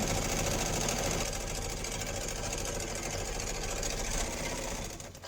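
A sewing machine runs continuously, stitching fabric envelopes with a fast, steady mechanical whir and rapid needle chatter, close and alone, slowing briefly at the end.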